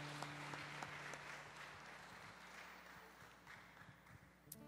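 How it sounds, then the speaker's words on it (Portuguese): A church congregation at a Sunday morning service applauds in praise, producing a moderate, fairly distant wash of clapping with scattered sharper claps and a low hum beneath. "Você pode dar uma salva de palmas para o Senhor."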